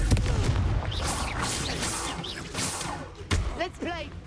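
The Confringo blasting spell goes off in Hogwarts Legacy as a quick burst of booms and crackling impacts. Combat effects follow, with a second sharp hit near the end. Speech is mixed in with the blasts.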